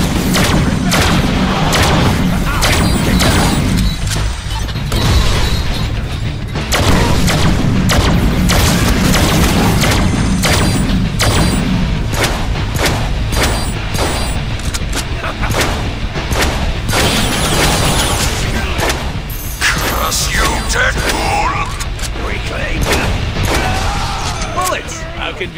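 Deadpool video game combat pours out dense, loud gunfire and booming explosions almost nonstop, rapid shots layered over heavy blasts, with game voices mixed in.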